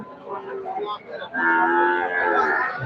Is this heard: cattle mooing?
yes